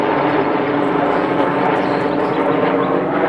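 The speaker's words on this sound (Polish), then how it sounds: "Leci helikopter." A helicopter flies overhead near a campsite in Ireland, a loud, steady broadband engine and rotor roar that fills the whole moment with no breaks.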